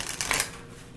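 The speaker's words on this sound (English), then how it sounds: "Good shuffle." A deck of Rumi Oracle cards gets a quick, faint riffle shuffle, a brief papery flutter that fades into soft room noise.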